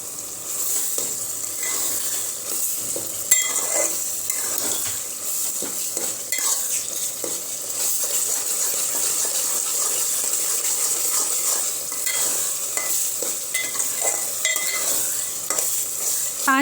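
Masala for mutton keema fries in a pan with a steady, dense sizzle while a spoon stirs and scrapes against the metal, producing continuous clinking under the hiss, with no voices.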